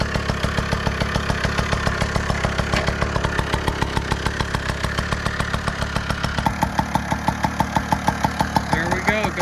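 A custom Puch Maxi N moped engine idles after starting, warming up with a fast, even putter of rapid pulses, close and loud, with a slight change in tone partway through.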